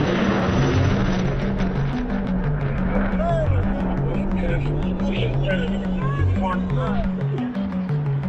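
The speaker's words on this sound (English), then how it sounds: "The aircrew are now setting up for the high-speed pass." A jet aircraft screams past at low altitude at nearly Mach 1 during an air show, a loud sustained roar with wavering tones, while a voice talks over it.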